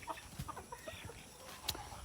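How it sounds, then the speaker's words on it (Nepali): Chickens cluck in a farmyard with pigs kept nearby: scattered short, faint clucks and squawks at a distance over a soft, steady outdoor background. "हेर्नु कुखुरा त कति छ यहाँनिर"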